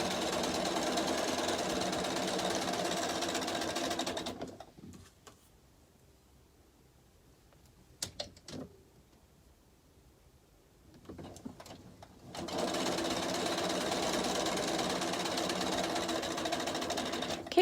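A sewing machine chain-pieces table runner blocks, running in a long steady whir, stopping for a quiet stretch of a few seconds broken by small clicks and handling noises, then starting again at full speed, close by.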